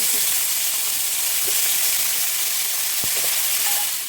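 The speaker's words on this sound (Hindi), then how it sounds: "ये 2 मिनट मैंने इनको फ्राई कर लिया गार्लिक में" Shrimp fry in garlic in a hot pan, giving a steady, close sizzling hiss throughout with a few faint clinks of utensils.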